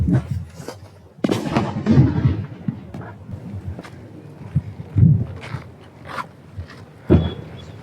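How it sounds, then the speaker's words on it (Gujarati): A VIP firecracker bomb buried in a one-foot pit in the ground bursts with a sharp crack, followed by several more loud pops and thuds scattered over the next few seconds, with rustling in between. "તો ભાઈ ધમાકો જોરદાર થયો છે"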